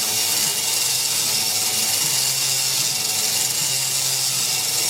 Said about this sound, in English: honing this cylinder